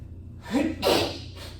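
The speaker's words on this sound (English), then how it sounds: "my apologies, I sneezed" A single sharp sneeze, a quick intake of breath followed by an explosive burst, close and fairly loud against a quiet background hum.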